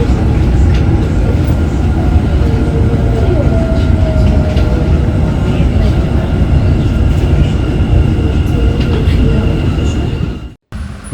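Steady loud rumble of a Dubai Metro train running between stations near Burj Khalifa/Dubai Mall, with continuous rail noise and faint squeals, cutting off briefly near the end.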